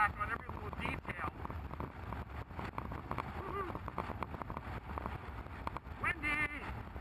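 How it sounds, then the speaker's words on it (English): Gusty wind buffets the microphone with rumbling low noise while a person talks over it. "Windy!"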